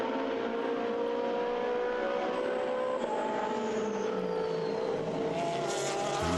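Ram Racing Ferrari GTE race car, number 52, in a European Le Mans Series race, engine howling with rising and falling gear-change pitch sweeps, loud and close, with another car's note joining near the end.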